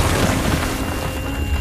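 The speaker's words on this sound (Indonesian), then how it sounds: "sebuah granat yang meledak tak jauh dari ia bersembunyi" Grenade blast in a film action scene, a loud, sustained low boom with rumbling debris noise filling the whole moment, no voices over it.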